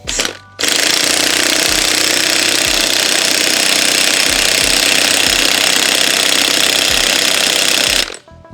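Loud, continuous hammering of an impact wrench driving a steering box bolt on a 2003 Ford F-350, running steadily for about seven seconds up close before stopping.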